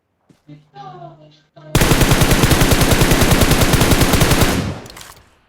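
Rapid automatic gunfire from the PUBG video game rattles out loud and close in a sustained burst of evenly spaced shots lasting about three seconds, following brief speech beforehand.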